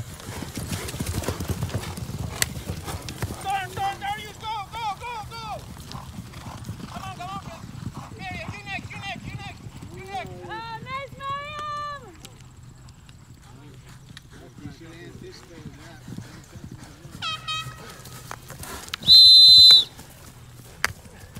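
A tired horse's hooves clip-clop in a steady, even rhythm for several seconds, joined by tonal calls. A loud, sharp whistle cuts in near the end.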